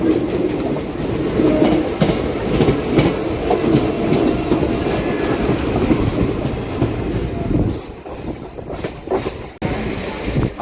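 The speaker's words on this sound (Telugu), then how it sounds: "special train" A Singareni MEMU special train rolls steadily on the rails, loud and near, with continuous rumbling and clickety-clack from the wheels, faint squeals and a few sharp knocks toward the end.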